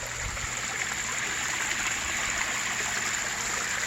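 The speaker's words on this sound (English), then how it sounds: "Little waterfall trickles out." A small garden waterfall trickles and splashes in a steady, continuous wash of water, close and unbroken throughout.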